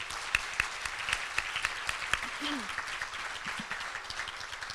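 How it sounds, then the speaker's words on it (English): Members at a Rotary club meeting applaud an honoree. Scattered, crisp claps from a modest crowd merge into a steady, moderate round that fades slightly toward the end. "let's give a round of applause to Ty Handy"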